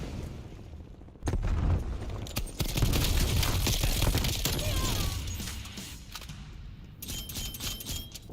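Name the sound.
incendiary grenade thrown in shooter video game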